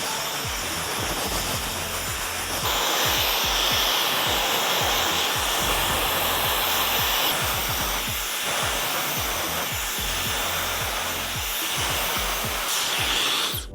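A handheld hair dryer blows steadily while drying fine hair from roots through the mids and ends, a loud continuous whooshing rush with brushing rustles over fourteen seconds.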